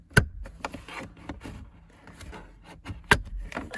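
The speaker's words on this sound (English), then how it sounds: "you just pry up a little section of it, and then you just start doing that." Plastic dash trim on a Ford Bronco Sport being pried up by hand: sharp snapping clicks near the start and again near the three-second mark, with softer scraping and rubbing in between, close and fairly quiet.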